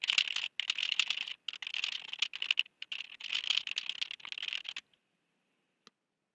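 Rapid, light clicking of typing on a computer keyboard while an answer is entered into a digital lab manual, in steady bursts with brief pauses and then quiet.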